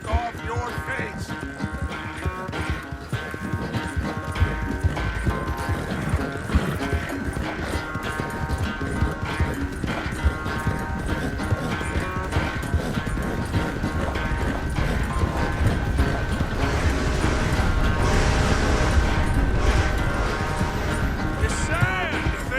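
Horse hooves clip-clop in Red Dead Redemption 2, a steady rhythmic patter running under continuous game music and ambient sound, with brief character speech mixed in.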